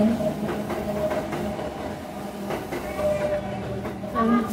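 A train rumbles by near a Kyoto residence in Japan, a steady broadband roar with faint rhythmic clacks and hiss, fairly loud and continuous throughout, with no voices over it.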